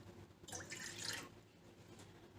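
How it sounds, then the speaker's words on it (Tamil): Water added to milk in a pan for ginger tea: a soft, close pouring splash lasting under a second, then quiet faint drips over low room noise, without speech. "1/2 டம்ளர் தண்ணியும் சேர்த்து"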